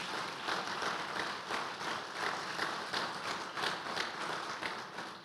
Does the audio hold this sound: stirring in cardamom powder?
no